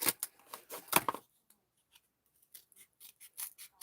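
Scissors snip around a paper circle in quick, crisp bursts of cuts, a rapid flurry of close snips, then a pause, then lighter, softer cutting resuming.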